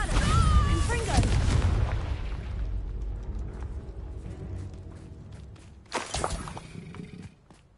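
Bombarda and Confringo spell blasts in Hogwarts Legacy on PS5 boom loudly near the start, fade into a low rumbling tail, then another burst of impacts hits near six seconds, with a voice calling out over the action.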